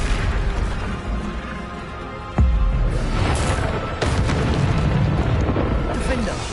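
Bombarda explosion spell in the Hogwarts Legacy video game, a sudden booming blast followed by rumbling game action and further impacts, loud and close amid continuous combat noise.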